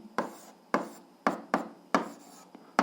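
Pen or chalk writing out the answer to an algebra equation, a series of six or seven short, sharp scratching strokes at an irregular pace, close and clear against near silence.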